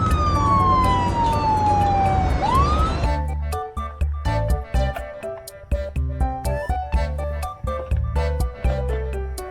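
A police car siren wails loudly in a long falling sweep that turns back upward, then cuts off into a bouncy musical passage with rhythmic tones.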